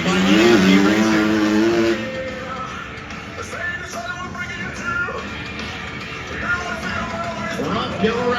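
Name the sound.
CRF 250 motorcycle racing at dirt bike show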